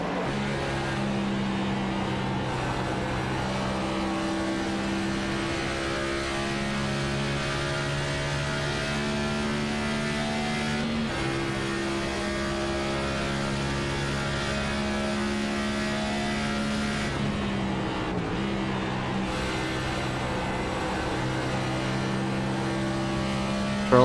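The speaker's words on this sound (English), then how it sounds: "Charles Bagley sounds like he's being smooth with the brakes, trying not to scrub that much tires" A steady, droning engine note from a race car on track at Indianapolis holds for a long stretch, its pitch stepping up and down as it shifts gears.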